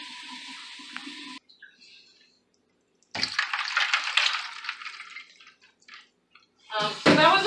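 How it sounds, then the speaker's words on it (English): Cold water is poured into a container to submerge a Thanksgiving turkey: a trickle, a short silence, then a louder gushing, splashing pour that stops and resumes, heard up close. "I'm going to add a little bit more cold water just to submerge him some more."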